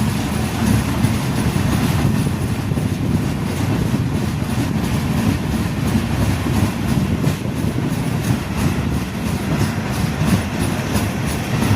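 KSR Bengaluru Express train 16594 rolling toward Parli Vaijnath station, heard from inside a 3AC coach: a steady, loud rumble of wheels on rail with faint clickety-clack throughout, no voices.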